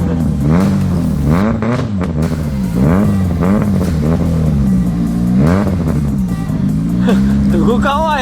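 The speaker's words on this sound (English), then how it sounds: "he manages to start the car with a big pile of snow still stuck on top" A car caked with a big pile of snow is started and revved while stuck: a near, loud engine repeatedly rising and falling in pitch through several revving surges, with voices talking over it.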